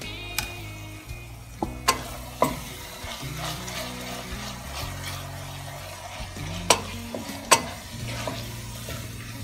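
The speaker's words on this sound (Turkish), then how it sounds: "Kıymalı harcımız çok güzel kavruldu." Minced meat filling with capsicum, pepper paste and tomato paste frying in a pan, with a soft continuous sizzle broken by several sharp spoon clacks and scrapes against the pan.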